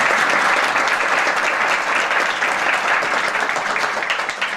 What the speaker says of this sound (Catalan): us demanaré que aplaudiu la Lourdes